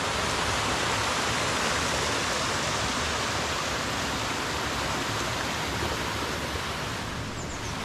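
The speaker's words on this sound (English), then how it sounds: "some more little waterfalls." Constant rushing water from small cascades, a broad steady hiss close by with no break, no talking.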